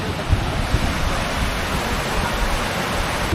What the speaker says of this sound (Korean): 여기 물소리가 엄청 많이 들려요.